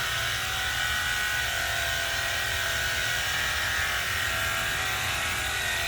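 A battery-operated mobile pressure washer runs with a steady, close buzzing drone and hiss that holds evenly throughout, with no talk.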